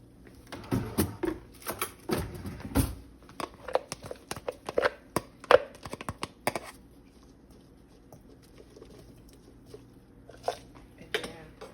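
Small hard egusi melon seeds patter and rattle as they are poured into a container in quick irregular bursts, with occasional clinks, busier early on and then thinning out.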